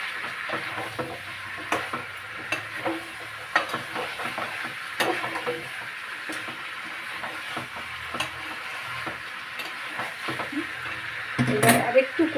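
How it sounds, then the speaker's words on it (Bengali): Chicken and potatoes stir-fried in a pan, with a soft sizzle under repeated scraping and stirring clinks of a utensil against the pan, and a voice talking intermittently. "এই যে মাংস কষছি, তার মধ্যে আলুটাও দিয়ে দিলাম"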